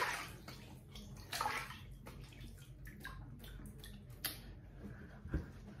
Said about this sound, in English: Let's wet the face and get started today.